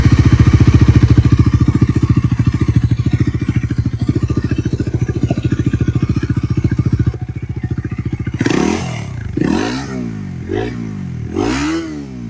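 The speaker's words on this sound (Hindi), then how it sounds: "वो है इस बाइक का एग्जॉस्ट नोट। आइए जरा सुनते हैं इसको।" A Bajaj Dominar 400 motorcycle engine idles with a steady, throbbing exhaust note, then revs hard several times in quick, rising-and-falling bursts.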